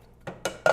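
Shrimp, diced tomatoes and sautéed onions, green peppers and mushrooms stirred in a pan: three short scraping clinks of a utensil against the pan, each a little louder than the last, close and with no talk.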